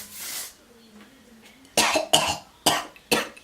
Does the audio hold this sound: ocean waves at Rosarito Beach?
no